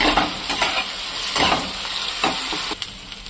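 Onions frying with ginger, garlic and green chili paste in a pan, a loud steady sizzle and hiss broken by several scraping stirs of a spoon, close up with no voices.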